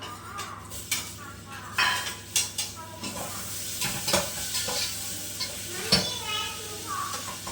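Tomatoes going into a hot pan for a potato gravy to serve with puri, then stirred with a spoon, giving repeated scraping and clinking strokes over a steady frying sizzle, close up with no talking.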